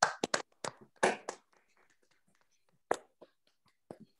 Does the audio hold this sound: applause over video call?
yes